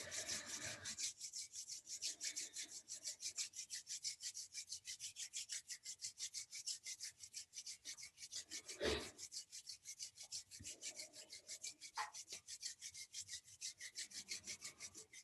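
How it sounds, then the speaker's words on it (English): Palms rub together in a steady, rapid back-and-forth rhythm during a Kundalini yoga warm-up, a soft, close, dry swishing that continues for many seconds with no talking. "Let's bring our palms together and rub them together."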